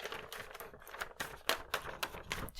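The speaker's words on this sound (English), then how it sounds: "Shuffling my papers around very officially." Papers being shuffled close to a microphone in a radio studio, a quick series of sharp crisp rustles and flicks in an uneven rhythm, fairly quiet overall.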